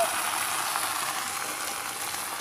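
Gongura leaves cooking in a pan, a soft steady sizzle and hiss heard close but fairly quiet, with no other sounds.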